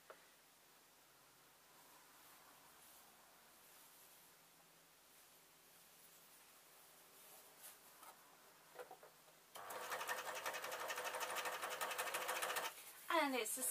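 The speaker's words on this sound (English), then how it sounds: "bring my serger forward" A serger overlocker stitches a rolling hem on fabric, starting after a quiet stretch with faint handling and then running in a loud, fast, steady whir with a brief stop and restart near the end.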